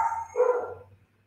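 A dog barks once or twice close by, a short gruff burst that fades quickly into quiet.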